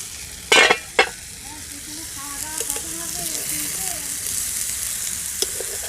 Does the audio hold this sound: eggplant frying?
yes